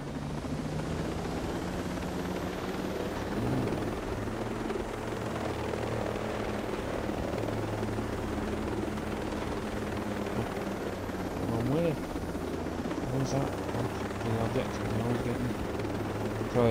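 A helicopter in the video game Ghost Recon Breakpoint gives a steady rotor drone and engine whine throughout, close and constant, with a voice talking over it at times.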